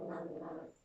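A dog named Penny gives a brief, faint whine or low vocal sound indoors, under a second long and quiet.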